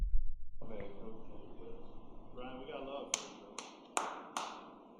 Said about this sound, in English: He was the only one clapping.